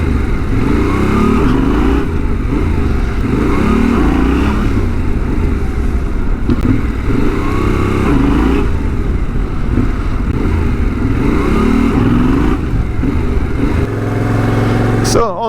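A motorcycle engine revs repeatedly in loud, close surges during wheelie attempts, rising and falling in a steady cycle with constant engine drone underneath and a brief clatter at the end.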